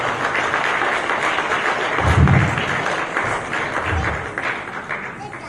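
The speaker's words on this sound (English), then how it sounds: "A round of applause for them," Audience at a summer concert by a music academy clapping, a dense, even wash of applause that holds steady and loud before easing slightly toward the end, with a voice faintly audible underneath.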